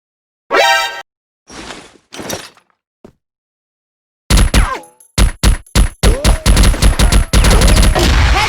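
A Gatling gun fires in a shooter game, opening with a rapid burst and a few short separated blasts, then after a pause a loud stretch of closely repeated heavy shots that run almost continuously to the end.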